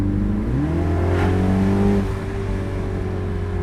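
A stage 1 tuned MINI Cooper S Clubman F54 engine revs up once with a rising whine, holds briefly, then drops back to a steady idle hum, heard close with no talking.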